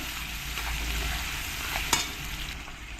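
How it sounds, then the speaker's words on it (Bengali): Chopped onions fry in a pan with a continuous hiss and crackle, stirred now and then, with one sharp scrape or clink near the middle; no voice over it. "পেঁয়াজ কুচানো পেঁয়াজগুলোকে ভালো করে লাল লাল করে ভেজে নিতে হবে"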